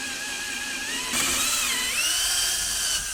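A 3.5 mm drill bit bores into a Weber IDF carburettor body, a steady high whine that grows louder and rises in pitch as the bit bites into the metal, with no talk.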